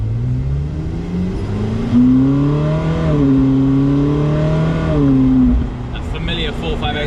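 The V8 of a Ferrari Sergio, built on the 458, revs in several swelling bursts that rise and fall, loud and close, before settling back to idle.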